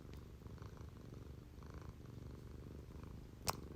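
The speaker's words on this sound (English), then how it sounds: "Hopefully you can't hear my cat purring." A cat purring nearby indoors, a soft low rhythmic rumble running continuously throughout at faint volume, with one brief sharp click near the end.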